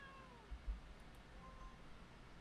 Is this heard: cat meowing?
yes